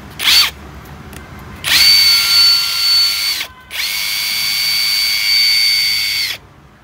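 A cordless 450 Nm power tool, salvaged from an old ship, whirs in a short burst and then two longer high-pitched runs. Each run lasts a couple of seconds, close and loud, with brief pauses between them.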